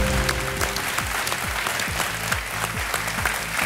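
A studio audience on a television quiz show applauds, a thick steady roar of clapping with a low musical sting underneath, continuous and fairly even throughout.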